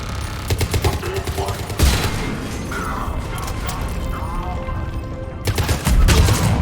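Rapid sci-fi gunfire aimed at a turret in Mass Effect 3, loud and close, with steady bursts of shots, mechanical clanks and a heavy impact, overlapping with a voice.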